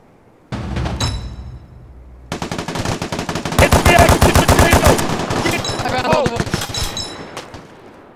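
Rapid automatic gunfire in a video game shootout, with long loud bursts and single shots that build from a short opening volley into sustained fire, close and dominant throughout.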